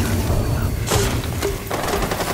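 Gunfire in the Rainbow Six Siege video game during a bomb match on the Favela map: a few sharp, loud shots in quick succession over a steady low rumble.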